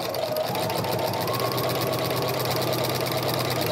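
Sewing machine with a walking foot running steadily on a quilt sandwich, stitching a straight line with an even whirring drone throughout, close and continuous.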